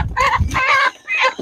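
Young chickens squawk and cluck in loud, close bursts as they are being caught on a farm, with a few sharp agitated calls in quick succession.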